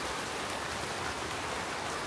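Rain falling outdoors, a dense, steady wash of patter and hiss that fills the whole moment evenly, with no voices.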